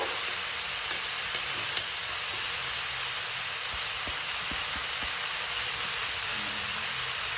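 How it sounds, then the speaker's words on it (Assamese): Tomatoes and vegetables frying in a pan, with a steady soft sizzle running throughout and a few faint clicks or stirring knocks, no voices. "এইখিনি এতিয়া আমি ভালদৰে ফ্ৰাই কৰি লওঁ।"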